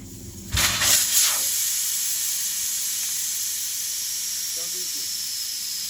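Air hisses out of an alloy wheel as its valve stem is pulled, a loud burst of about a second in a couple of pulses, then it fades to a low steady background with a faint clink.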